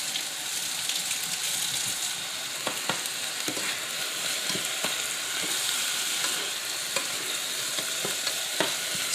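Rice and onion fry in a pan with bouillon cube crumbled in, a dense, even sizzle broken by repeated scraping stirs, close and steady with no talking.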